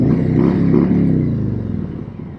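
Harley-Davidson Tri Glide Standard three-wheel motorcycle engine under way, a close, rich rumbling drone that swells briefly and then eases off, heard alone without talk.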